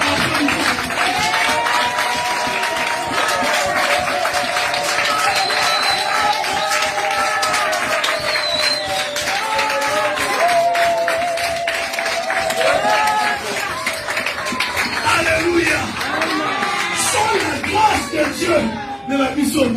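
Church congregation at a French-language gospel service clapping and applauding together, a dense steady wash of claps throughout with singing or talk layered over it.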